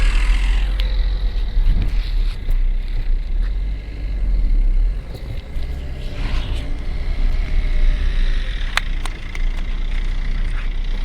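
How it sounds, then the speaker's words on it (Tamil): A 2010 Mahindra Xylo is driven along, its engine rumbling low and steady beneath creaks and rattles from the cabin, with sharp clicks and knocks now and then over the continuous drone. "இந்த வண்டி ஓட்டி காமிச்சேன்"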